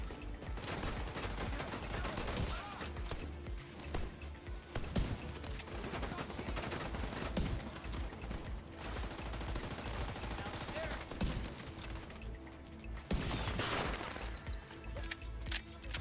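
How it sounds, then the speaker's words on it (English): Gunfire in The Division 2: bursts of automatic weapon fire and single shots cracking almost nonstop over a busy, noisy firefight, with a few louder blasts. "Shooting."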